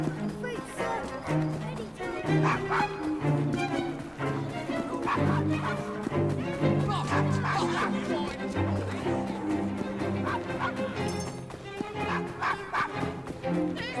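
Dog yips and bow-wows in the Assassin's Creed Syndicate video game, a few short calls woven through busy game music and character talk.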